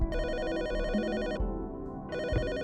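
Phone ringing in the video game Her Apartment, a loud electronic ringtone with a warbling trill, pausing briefly before the next ring starts, with no talking.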